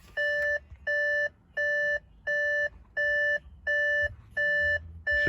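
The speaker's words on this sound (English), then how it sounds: "this annoying beep on the A6" Warning chime from an Audi A6, a clean electronic beep repeating eight times in an even rhythm with short gaps, clear and close inside the car, alone with no talk.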